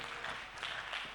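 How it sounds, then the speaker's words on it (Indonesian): An audience at a Ma'had Aly Nurul Jadid graduation ceremony applauds, a brief, fairly faint wash of clapping heard from a distance. "Dapat tepuk tangan dulu ya"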